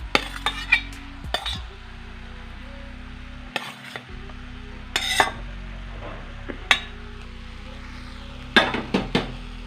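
Basmati rice being mixed with thumbai keerai in a pan, with repeated sharp metal spoon scrapes and clinks against the pot over a faint steady sizzle.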